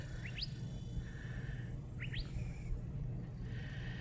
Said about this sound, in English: That was a curve-bill thrasher.